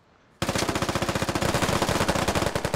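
Sustained automatic gunfire from the Squad military shooter, a rapid even burst of shots bursting in suddenly after near silence and hammering loud and close for over two seconds without talk.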